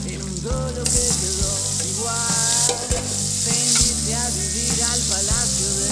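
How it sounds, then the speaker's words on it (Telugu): Paneer frying in oil with a little butter in a hot pan, a loud continuous sizzle close up, steady throughout with occasional stirring. "ఆయిల్ అయితే వేసుకోవాలి కొంచెం బటర్ యాడ్ చేసుకోవాలి ఇప్పుడు పన్నీర్ని ఫ్రై చేసుకోవాలి"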